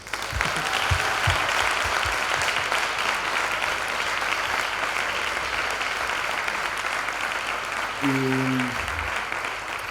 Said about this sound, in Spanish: os pido un aplauso a la Virgen